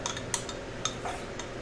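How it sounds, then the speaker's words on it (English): Teaspoon stirring honey and yeast in warm water in a bowl, quiet close clinks and scrapes of metal against the vessel, with a few sharper taps among soft swirling. "you're going to use the teaspoon to just kind of stir it up"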